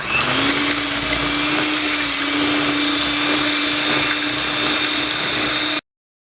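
A steady, loud motor whir runs without pause for about six seconds as an electric mixer on low speed beats solid mango butter for a shea and mango hair and body butter, then cuts off abruptly.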